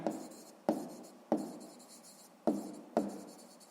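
A pen writes on paper during a math exercise, five distinct strokes starting sharply and trailing off, close and clear with short gaps between them.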